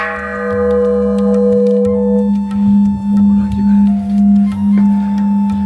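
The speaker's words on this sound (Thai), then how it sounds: "คอระฆังขอบอกให้เคาะสามครั้ง" A Thai temple bell is struck by hand, each blow leaving long ringing, decaying metallic tones that overlap, with soft voices murmuring in the background.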